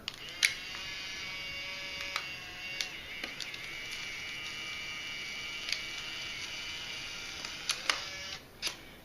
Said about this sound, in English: So to eject a cover sheet, we're going to take the picture.